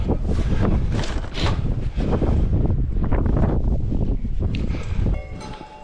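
Strong, steady wind on a clear, very cold morning roars and buffets the microphone for several seconds, then drops off abruptly near the end.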